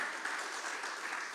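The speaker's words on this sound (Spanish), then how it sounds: "Dale un fuerte aplauso al Señor." A church congregation applauds from a distance, a faint, dense wash of many hands clapping together without distinct individual claps.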